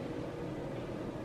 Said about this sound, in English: The fan is going because I just took a shower